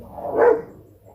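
Dogs scuffling at home let out one short, mid-pitched yelp or bark that rises and fades, heard somewhat distant and alone.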